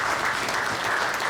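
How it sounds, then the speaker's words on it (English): Dense, continuous applause from a crowd, loud and even throughout with no pauses. "So give them another round of applause."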